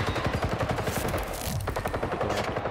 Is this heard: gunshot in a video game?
yes